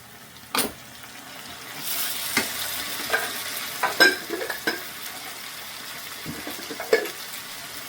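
Tomatoes are tipped into a hot pan with grated coconut for tomato chitranna, then stirred. A soft, steady sizzle runs underneath irregular scraping knocks of the spoon against the pan.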